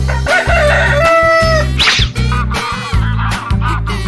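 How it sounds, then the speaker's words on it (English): A cartoon rooster crows loudly over bright, steady background music, with short clucking and quacking bursts mixed in. "Rooster."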